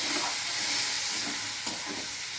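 A mixture for banana stem curry (thor ghonto) with green chilli and a little milk is stir-fried over raised heat in a pan. A loud, continuous sizzling hiss is broken by faint stirring scrapes and one brief knock.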